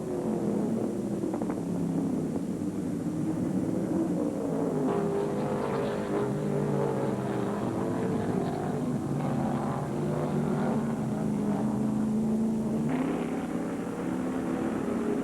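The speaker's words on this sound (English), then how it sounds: "Allison's car is handling well on the tight turns of the road course" Several 1975 NASCAR Modified race cars lap Daytona International Speedway's road course, their engines buzzing and droning loudly and continuously as the pack passes, with no talk over it.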